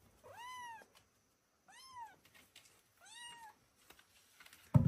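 A kitten meows three times, each call clear and close, rising then falling in pitch and spaced about a second apart, with quiet gaps between and a brief bump at the very end.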